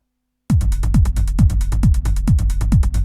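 A dry Korg Volca drum machine groove in Detroit techno style, without effects: steady four-on-the-floor kicks with pitch-dropping thumps, layered hats and percussion ticking between, loud and close, no vocals.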